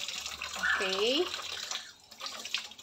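Water from a kitchen tap running steadily into a sink full of dirty dishes, a continuous broadband rush close by, with a person briefly speaking over it.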